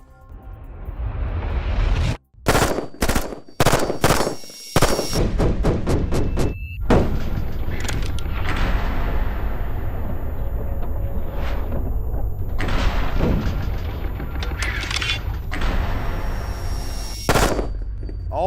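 A short-barreled SIG 552 rifle with a stamped sheet-metal body fires on full auto at a range, loud sharp bursts of rapid shots separated by brief pauses, then a long sustained string of fire.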